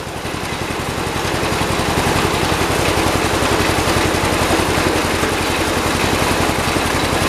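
A John Deere 216 lawn tractor engine runs steadily up close, a loud continuous rumble with a fast, even pulsing throughout and no pauses.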